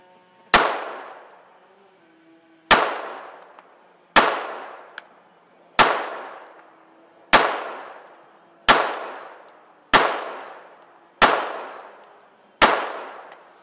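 Nine sharp gunshots from a .380 Beretta 85F pistol ring out at a steady pace of about one every 1.5 seconds, each loud crack falling away into a short echo, with no talk.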